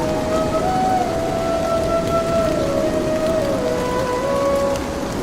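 Stormy rain pours steadily in a loud, dense wash for a cartoon night scene, with a faint tonal whine drifting above it and no distinct thunderclap, with no voices.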